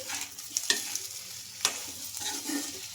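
Potato pieces are stirred and fried in a pan, with a steady sizzle broken by a few sharp scraping clicks of the spoon, close and fairly loud, with no talking.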